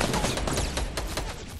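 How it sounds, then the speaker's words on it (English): Gunshots ring out in a Fortnite match as a fast, close volley of sharp cracks fired in quick succession over a steady noisy background. "Someone else is shooting."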